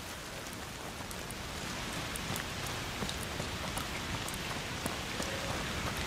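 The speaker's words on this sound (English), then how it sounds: "Foul rain." Steady rain pours in the video game A Plague Tale: Requiem, a dense even hiss of falling water with scattered drop ticks, constant and close throughout.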